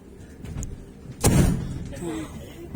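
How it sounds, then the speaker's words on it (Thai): A Flåm Railway train door closes inside the carriage, a single loud thump near the middle of the clip, with soft voices and cabin rumble before and after. "ปิดประตูเรียบร้อย"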